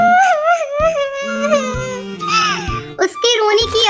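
A cartoon bird's high, wavering cartoonish voice sobs and wails in rising and falling cries, with a few brief breaks between bursts.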